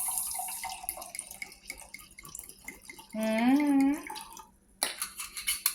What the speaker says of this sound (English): let's go ahead and pour this wine up